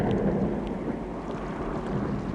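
Thunderstorm rumble before rain, a low, steady rolling thunder with a soft wash of wind or drizzle over it, moderately loud and unbroken, with no voices.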